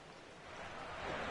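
Steady hiss of rain falling during an NFL football game, a dense broadband wash that builds slightly louder over the short stretch, with no voices or distinct events on top.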